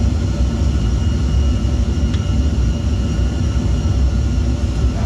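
A small airplane flies and banks through a turn, its engine a steady, loud broadband drone with a constant low rumble filling the whole stretch and no talk over it.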